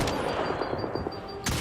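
Gunfire in the video game Mass Effect Andromeda, a burst of rapid repeated shots over a busy background of game noise, ending in a louder blast near the close.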